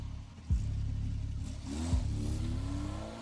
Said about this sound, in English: The sound of the departing car's engine started the countdown.